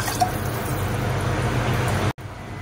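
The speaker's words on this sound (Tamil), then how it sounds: "இன்னும் கொஞ்சம் தண்ணி சேர்த்துக்கிறோம் ஃப்ரெண்ட்ஸ்." Water poured into a pot of nonbu kanji, traditional rice porridge with lentils, a close, steady liquid splash and trickle that cuts off abruptly near the end.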